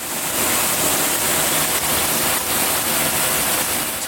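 Water spraying from a NOSAME stone stream shower head with its flow restrictor removed, a steady loud hissing rush at high pressure, close and continuous without voices.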